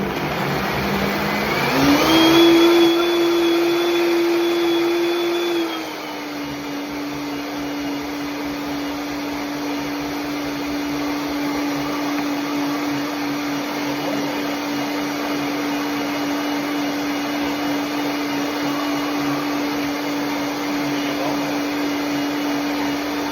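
Blender blending a herbal green soup, run loud and continuous: a high whining motor spins up and revs for a few seconds, then settles into a steady droning whir that carries on alone for the rest of the clip.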